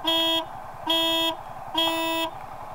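Three loud, steady motorcycle horn honks from a Yamaha bike, each about half a second long and evenly spaced, over a low rumbling engine idle nearby.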